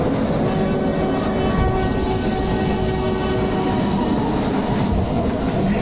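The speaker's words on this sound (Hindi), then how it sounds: "ये कैसी ट्रेन है" Train running: a loud, steady rumble of a moving passenger train heard from inside the coach, with continuous rolling noise and a faint sustained horn-like tone, no speech.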